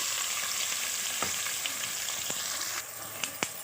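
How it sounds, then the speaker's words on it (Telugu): Mustard seeds and cumin frying in hot oil in a cooker, a continuous close sizzle and crackle with a few sharp pops near the end, no voices. "దీంట్లో 1 స్పూన్ ఆవాలు, 1 స్పూన్ జీలకర్ర వేసేస్తున్నాను."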